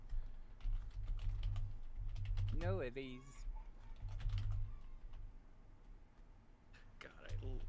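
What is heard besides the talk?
typing on computer keyboard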